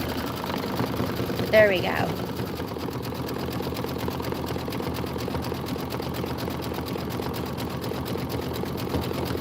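An embroidery machine works a satin stitch on a Kimberbell Autumn Acres apple tree design, humming in a continuous fast, even rhythm up close while a person briefly speaks over it.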